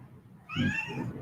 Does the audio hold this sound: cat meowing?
yes